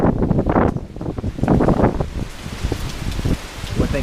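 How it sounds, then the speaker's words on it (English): Steady hurricane-force wind and rain sweep across an outdoor bee yard in a tropical storm, a broad continuous roar with rumbling wind buffeting on the microphone and surging gusts, close and loud with no speech. "got that steady hurricane wind"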